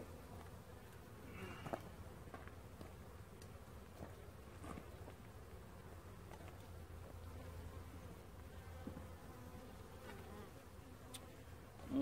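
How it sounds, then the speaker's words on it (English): A faint, steady hum of about a million honeybees buzzing together in a hive, low and continuous, with occasional light knocks in the background. "we've got about 1 million bees in there"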